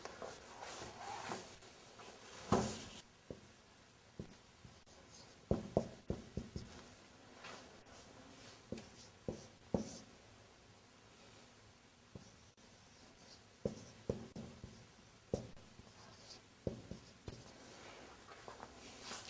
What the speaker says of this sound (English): Now I want to write down something on the board again.